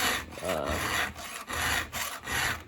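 A hand file rasps along a STIHL chainsaw chain in quick back-and-forth strokes, about six rhythmic scraping passes, close and clear.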